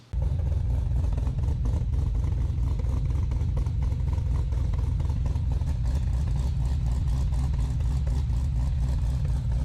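Modified LS 6.0L V8 engine with an aggressive camshaft, idling loud and close with a continuous choppy, lumpy rumble that stays steady throughout, with no talk.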